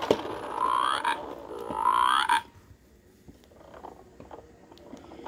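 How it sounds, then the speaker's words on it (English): A pull-string toy frog gives two long, rising croaks in a row, close and loud, then falls quiet apart from faint rustling. "Do you hear the frog?"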